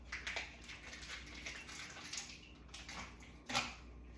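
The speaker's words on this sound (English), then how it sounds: "so I'm gonna pour this off in the sink" Liquid from a package of firm tofu is poured off into a kitchen sink, a soft, steady watery trickle with light splashes and a brief louder spatter near the end.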